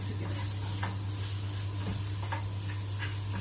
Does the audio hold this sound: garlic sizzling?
yes